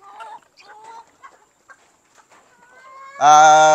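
Hybrid chickens cluck softly in scattered short bursts, then one bird lets out a loud, drawn-out call close by.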